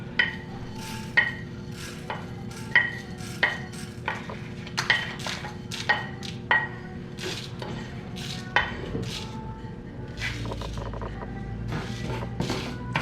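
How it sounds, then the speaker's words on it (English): Coriander seeds, cumin seeds and red chilies dry roasting in a pan, a spatula repeatedly scraping and tapping the metal in a steady rhythm, close and fairly loud with a faint hiss underneath. "first we are going to dry roast our whole spices, the coriander seeds, the cumin seeds, and 1 to 2 red chilies"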